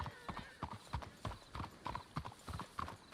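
Horses' hooves clip-clop at a steady walking rhythm in the video game Red Dead Redemption 2, a run of crisp, evenly spaced close knocks with a faint voice in the background.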